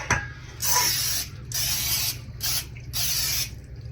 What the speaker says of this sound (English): So I'm just going to spray in the bottoms.